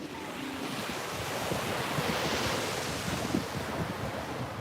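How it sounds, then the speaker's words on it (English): Steady rush of ocean surf breaking on a beach with wind buffeting the microphone, a continuous broad roar swelling slightly in the middle. "Yes, I'm definitely used to the beach sound."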